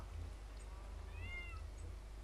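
A cat in the Minecraft video game gives a few short meows, soft and clear over a steady low background hum.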